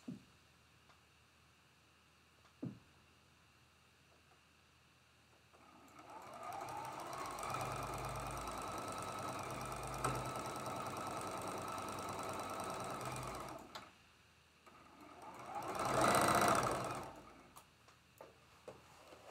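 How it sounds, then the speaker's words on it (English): A domestic sewing machine stitches a quilt block seam in a steady, fast mechanical run lasting several seconds, then stops, followed by a brief louder burst of motor noise; quiet surroundings with a couple of small clicks. "let's go ahead and flip him right over and sew the seam that connects these two pieces"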